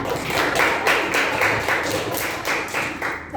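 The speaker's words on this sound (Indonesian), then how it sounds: "Tepuk tangan." A class of students claps hands together in a classroom, a loud, evenly pulsing burst of rhythmic clapping that keeps a regular beat close by for the whole stretch.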